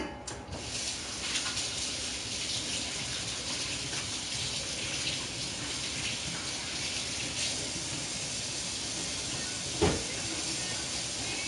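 A kitchen tap runs steadily while hands are washed beneath it, a soft even hiss of water lasting throughout with a brief louder splash near the end; no one speaks.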